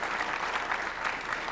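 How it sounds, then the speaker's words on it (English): A short burst of applause from an audience at a fireside chat, even, sustained clapping at moderate level with no talk over it. "So if we could give a round of applause"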